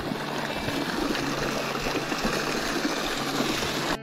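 Water from a waterfall on a mountain trail up Mount Adatara rushes steadily nearby, a continuous moderate flowing roar with no voices.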